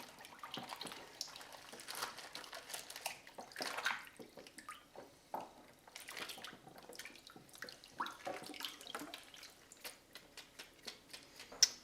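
Used plastic baggies pushed down into water while cleaning a Sawyer Mini filter: close, irregular splashes, sloshes and crinkly rustles with small drips, steady throughout and with no voices.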